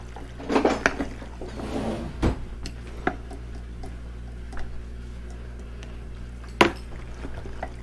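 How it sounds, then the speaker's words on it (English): Spatula scraping and stirring pasta in a pan, a few scattered knocks and scrapes against the metal with quiet gaps between, over a low steady hum. "I got to get a spatula and scooch this little bit in there and stir this."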